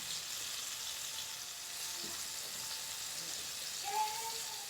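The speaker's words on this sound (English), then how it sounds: "if you're frying your chicken" Chicken pieces, dredged in flour, fry in hot oil in a pan with a steady, dense sizzle and crackle, close and continuous, with no talking over it.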